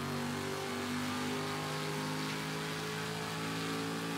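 Sauber C9 LM race car engine in Project CARS 2, a steady loud droning whine with layered harmonics, pitch wavering slightly as it holds revs throughout, with no break.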